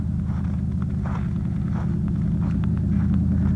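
Old Dodge truck engine warming up, a steady low idling rumble with a faint uneven throb, close and continuous.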